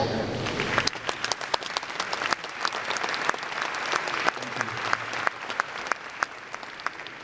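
Sustained audience applause at the APIMONDIA 2013 closing ceremony in Kiev, a dense wash of many hands clapping with sharp individual claps standing out, steady and fairly close throughout.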